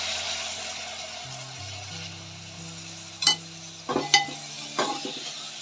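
Mixed vegetables such as peas, beans, potatoes and carrots go into a hot pan of fragrant spices, giving a steady soft sizzle with a few sharp metallic clinks and scrapes of stirring near the end.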